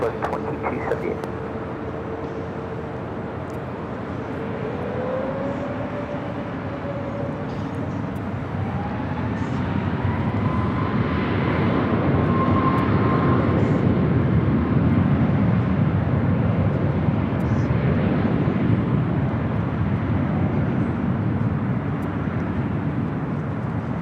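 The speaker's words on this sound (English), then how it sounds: "We're looking at Southwest Airlines 2278 taking off to Dallas Love Field on the MAX 8." A Southwest Airlines Boeing 737 MAX 8 takes off from runway 24 left at LAX, its jet engines roaring steadily louder with a rising whine as it accelerates, heard from nearby.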